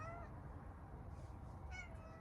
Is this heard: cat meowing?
yes